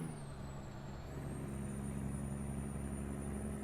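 Heavy truck in American Truck Simulator pulling uphill under load, a steady low engine drone with a faint high turbo whine that dips and then rises as it slowly gains speed, with no voices.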